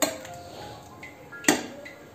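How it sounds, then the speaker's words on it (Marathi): A spoon stirs chicken in a metal pot during home cooking, producing a few light clinks and scrapes, including one sharp knock midway, with no one talking. "हे छान मिक्स करू."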